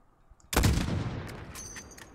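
One sharp sniper rifle shot from a Modern Warfare sniping mission cracks loudly after a near-silent start, then its echo rolls away over about a second and a half.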